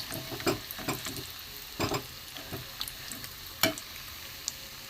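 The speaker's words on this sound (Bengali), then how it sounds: "কড়া করে ভাজা হয়ে গেছে, খুব ভালো লাগে খেতে" Sweet pumpkin fritters deep frying in hot oil: a quiet, steady sizzle broken by scattered sharp scrapes and clicks as they are stirred and lifted, with no one talking.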